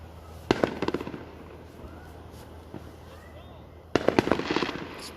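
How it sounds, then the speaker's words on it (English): Neighborhood fireworks played back from a recording give two rapid clusters of crackling pops and bangs, one early and one near the end, with quieter background between them and people talking nearby. "Let me put the fireworks back."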